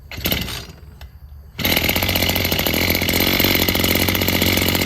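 A Maruyama brush cutter's small two-stroke engine catches and starts, settling into a loud, steady, buzzing run close by after a few seconds of quieter handling noise.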